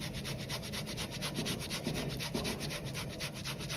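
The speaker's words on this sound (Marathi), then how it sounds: "आता हे बारीक बारीक किसणी मी किसून घेऊया" Boiled potatoes grated on a fine grater, a steady close scraping rub with quick regular strokes throughout, no voices.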